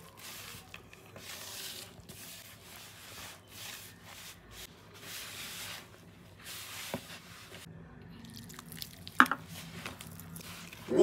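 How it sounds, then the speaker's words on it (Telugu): Soft rubbing and squishing of a stiff dough mixed with water, worked by hand, a steady textured friction with occasional light knocks, close up and without talk. "వేసి ఇలా బాగా కలుపుకోవాలి"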